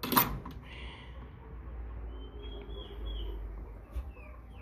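American Bresse chickens in a grow-out pen give soft, scattered clucks and calls at a moderate distance, with a low steady background hum and no talking.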